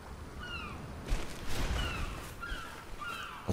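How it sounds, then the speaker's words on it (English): Seagulls call in a Kingdom Hearts III game scene by open water near a big castle, several short squawking cries repeating over a rushing wash of ambient sound. "That's some seagulls."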